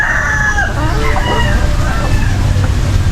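Several roosters in a backyard in the Philippine countryside crow loudly, one long cock-a-doodle-doo overlapping with others, with clucking and other farm sounds in the background.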